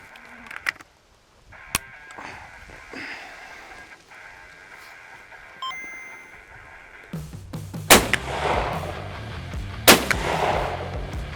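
A rifle is fired at an airless off-road tire, sharp loud cracks standing out against a quieter outdoor background with scattered knocks and rustling.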